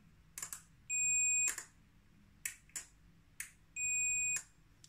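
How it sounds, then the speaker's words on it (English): A multimeter confirms electricity flowing through a relay on a bench power supply with two long steady electronic beeps, set among short sharp clicks and taps, all close and quiet with no talk. "my multimeter, which tells us with a beep that there's electricity"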